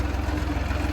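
A farm tractor engine idles with a low, steady, pulsing throb, close and moderately loud, running alone with no one talking.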